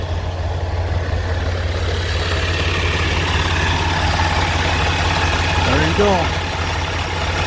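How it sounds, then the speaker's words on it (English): A Freightliner Cascadia truck engine idles steadily and loud up close with its AC compressor clutch engaged and spinning, while someone speaks briefly over the continuous rumble. "So now the fan clutch is spinning on that AC compressor and the AC should be"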